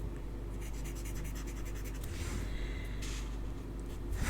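New pen nibs blending ink lightly on a stamped card for a tall, skinny country flowers design, making soft, repeated scratchy strokes close by in a quiet room.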